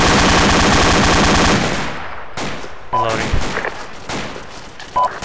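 A medium machine gun fires long, rapid automatic bursts in the military video game Arma, loud and close. The rattle then breaks into scattered single shots and booms, with a voice heard faintly underneath.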